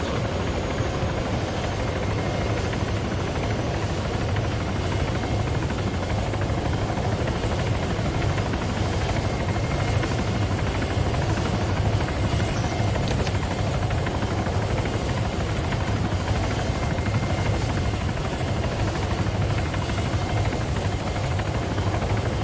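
Military helicopter touching down on a landing pad and spooling down, a steady, loud, close rotor and turbine roar that continues without a break.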